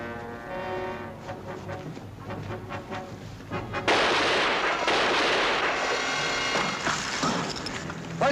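Gunfire erupts in a 1965 WWII combat drama: a loud blast bursts in partway through and rings out with a sustained roar and echo, following a quieter rumbling stretch, with no talk.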